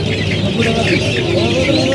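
Chickens at a busy poultry market cluck and squawk continuously, loud and close, with crowd voices mixed in underneath.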